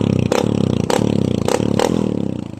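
Motorcycle fitted with a 304 stainless steel 3-in-1 exhaust pipe, loud and close, holding a throbbing idle broken by four sharp throttle blips at regular intervals.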